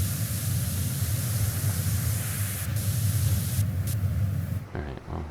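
A pressure washer in PowerWash Simulator sprays water as a steady, loud hiss with a low hum beneath, running continuously before cutting off near the end.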